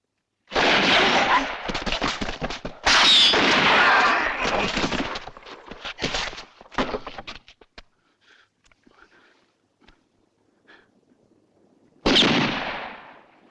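Battle noise from an action movie: a dense burst of rapid gunfire and explosive blasts, loud and close for several seconds, then thinning to scattered faint shots and near silence before another sharp loud blast at the end.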